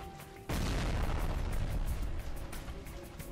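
A C4 charge detonates in a video game, a sudden loud boom that swells into a dense, sustained rumbling roar lasting several seconds.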